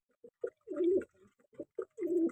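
Pigeons cooing in a loft, several soft, throaty coos and short grunting notes in a slow repeating pattern, close and clear against near silence.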